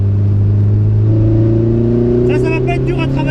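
A motorcycle engine revs hard and holds a steady, loud drone on a race track at Le Luc, the pitch rising gradually, with a brief burst of higher tones near the end.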